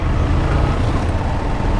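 Road traffic on a ghat mountain road, heard from a motorcycle rider's position: a steady, loud rumble of passing vehicles and engine noise with wind, continuous throughout without speech.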